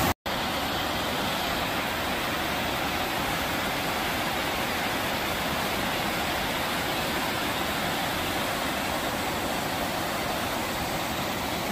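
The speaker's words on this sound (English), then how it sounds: "I arrive at a giant waterfall" A giant waterfall in winter roars in a constant, dense broadband rush, loud and unbroken across the whole stretch, with no voices over it.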